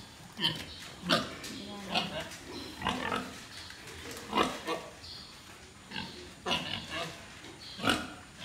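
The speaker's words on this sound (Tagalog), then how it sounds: "Mahirap magpa-alaga ng ganito kadaming baboy?" Pigs of the Pietrain breed on a farm, a large herd, grunting and oinking in repeated bursts close by, with people talking over them.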